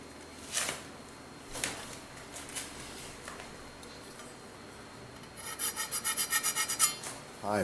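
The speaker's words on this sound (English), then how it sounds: "we're using the bench scraper to scrape it off, just like this" A bench scraper rasps dirt off a surface: a few scattered scrapes at first, then a quick run of about ten rhythmic, gritty strokes close by near the end.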